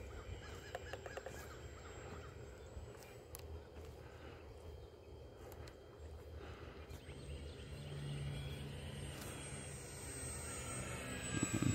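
An Arrows Bigfoot RC airplane with an electric motor running a 4S 2200 battery flies overhead after a crash repair, a faint steady motor drone that swells louder toward the end, with crows cawing in the background.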